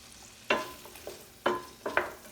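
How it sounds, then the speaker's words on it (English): Sliced onion and sliced pepper sizzling in a pan for pasta primavera, four short bursts of hiss and crackle as the vegetables are stirred, quiet between. "Then I'm going to add the sliced onion and sliced pepper."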